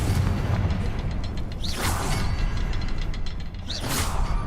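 The Confringo spell in Hogwarts Legacy blasts with whooshing bursts and booming, crackling impacts, two distinct swells over a dense rumbling game soundscape.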